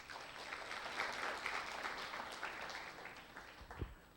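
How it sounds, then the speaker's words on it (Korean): A church youth service congregation applauds in a large worship hall, steady soft clapping heard faintly from a distance and fading toward the end. "박수 한번 주실까요?"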